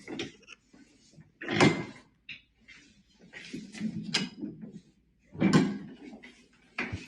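A door is pushed open and shut a few times, with two louder close thumps and scattered lighter knocks and rattles of handling between them, heard in a quiet room.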